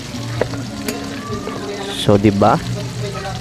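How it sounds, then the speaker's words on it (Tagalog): Aromatics sautéing in a pan for bagoong alamang with pork fat, a soft sizzle under a person talking, with brief stirring scrapes and clinks along the way. "Igigisa natin yan."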